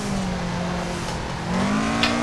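Toyota AE86 engine in the Assetto Corsa driving game, revving steadily through a drift with a sustained droning tone that climbs in pitch and swells louder near the end, with no talking.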